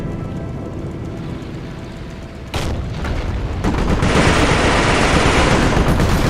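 Gunfire and explosions in the World War II strategy game Europe in Ruins, a sharp boom followed by bursts of machine-gun fire and rolling blasts that build into a loud, continuous barrage with no voices.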